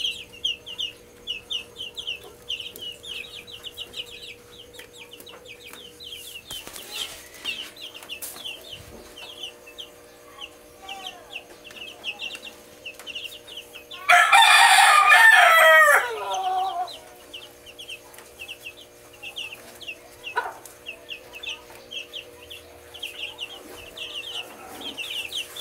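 Chickens cluck with short, repeated calls throughout a farmyard, and a rooster crows loudly once near the middle, standing out clearly above the steady clucking.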